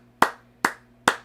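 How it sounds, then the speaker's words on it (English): Three separate, sharp hand claps spaced evenly about four tenths of a second apart, close and loud against near silence, each with a short decaying tail. "let's clap for Tom for getting that right"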